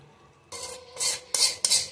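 A spoon stirring dal in a metal pot while making dal tadka, giving four short bursts of scraping and clinking, close and fairly loud, with no talk.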